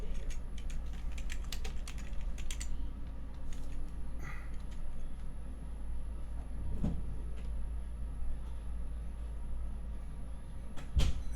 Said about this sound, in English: So let me just type in Skepta and Wally.